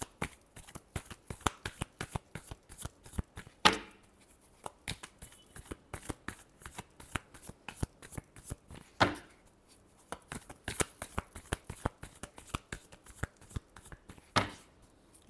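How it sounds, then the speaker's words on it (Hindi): A deck of tarot cards shuffled by hand at close range, fast dense riffling clicks in long rhythmic bursts with brief pauses and sharper taps between runs. "last shuffle"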